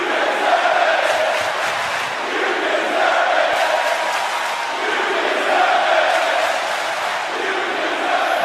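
A sold-out wrestling arena crowd in Denver roars and cheers in a steady, dense wall of noise, with chants rising and falling and no pause throughout.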